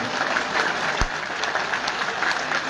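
Audience at a Gujarati political gathering clapping: a dense, steady wash of applause from many hands fills the whole stretch, loud and continuous with no voices standing out.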